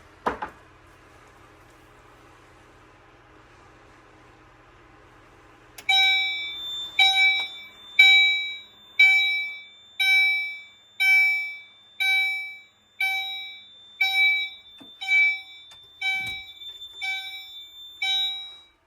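A fire alarm on an AFP-200 fire alarm system under test sounds loud, close tonal horn blasts in a steady repeating rhythm after several seconds of near silence, with a few clicks beforehand.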